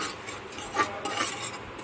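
A spoon scrapes and stirs a mix of salt, turmeric, cumin and coriander powder in a kitchen pan, making soft gritty swishes with a faint sizzle in one brief close pass.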